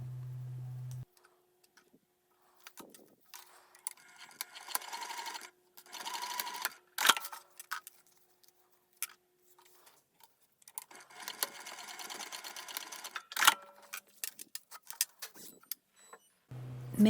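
Sewing machine top-stitching zipper tabs on a crossbody bag, running in short close bursts broken by pauses, with small clicks and handling noises between runs.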